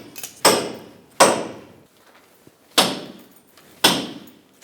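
Four sharp metallic bangs at uneven intervals from a pickle fork being hammered to pop a front lower ball joint loose on a Ford Ranger, each hit ringing out and decaying before the next.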